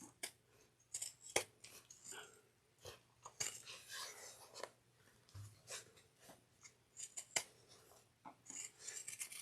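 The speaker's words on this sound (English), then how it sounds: "I'm using Kai scissors." Kai fabric scissors cutting material for a woven tote bag, a series of crisp, close snips and slicing strokes at an irregular pace with brief pauses between cuts, fairly quiet, with no talking.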